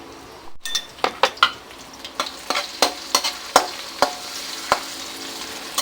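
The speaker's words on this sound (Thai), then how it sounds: "เอาพริกกระเทียมลงไปผัด ลงไปผัดให้หอม" Coarsely pounded chili and garlic stir-fried in oil over gentle heat: a soft sizzle broken by a quick run of sharp metal spatula scrapes and clinks against the pan, close by, with no voices.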